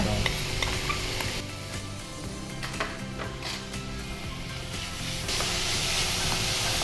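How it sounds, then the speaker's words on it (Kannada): Grated beetroot hits a hot frying pan for beetroot paneer cutlets, bringing a loud, steady sizzle and hiss with the scrape of stirring running through it. "ಈಗ ಇದಕ್ಕೆ ತುರಿದ ಬೀಟ್ರೂಟನ್ನು ಹಾಕುವ"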